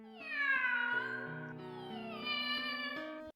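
A cartoon cat in a dubbed animated show meows in a long, drawn-out, pitch-sliding call that carries across several seconds, loud and close, with a second rising meow toward the end.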